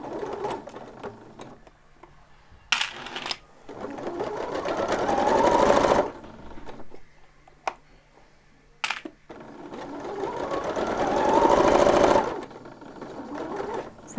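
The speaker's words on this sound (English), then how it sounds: "I'm sewing this at a 1 centimetre seam allowance because that's what it is for the dress" Sewing machine stitching a side seam on a lined dress bodice at a 1 cm seam allowance, two long runs of rapid mechanical chatter that build in speed, separated by pauses and sharp clicks of handling.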